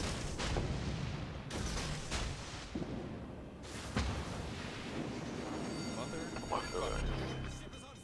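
Warship guns fire in World of Warships, heavy booming salvos and sharp cracks over a constant engine and sea rumble, with a voice speaking briefly during the action.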